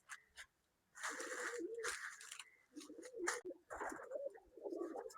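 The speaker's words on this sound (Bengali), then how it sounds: "এই যে এগুলা বন্ধুর মাদি কবুতর।" Female pigeons cooing in a loft, a short burst of calls followed by longer repeated coos close by, with brief pauses between.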